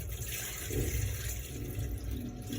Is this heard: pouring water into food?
yes